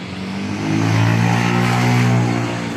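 On the Trans Central Highway in Cebu, a single passing vehicle rumbles, its engine hum swelling louder midway and fading again, heard from a distance above the road with no talking.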